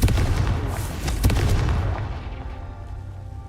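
A loud, booming blast from the Confringo fire spell in Hogwarts Legacy, with crackling bursts and a rolling rumble that gradually fades.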